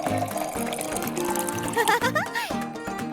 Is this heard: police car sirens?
no